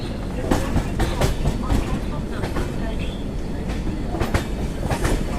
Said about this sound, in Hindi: सामने खड़ी है न्यू दिल्ली प्रयागराज एक्सप्रेस।